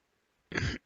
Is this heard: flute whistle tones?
no